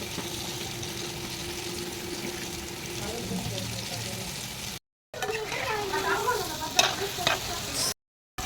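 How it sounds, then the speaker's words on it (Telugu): Chicken popcorn pieces fry in a pan with a soft continuous sizzle and occasional stirring scrapes, faint and close, broken by a couple of brief silent gaps. "ఇలా దోరగా వేగినాయి కదండి"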